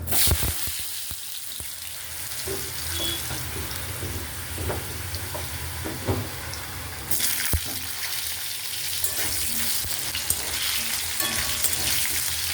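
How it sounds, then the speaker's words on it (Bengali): Potatoes and sweet potatoes fry in a pan with a steady, close sizzle that grows brighter partway through, broken by occasional stirring clicks and taps; nobody speaks. "আলুটা ভালো করে ভেজে নেবো একটু"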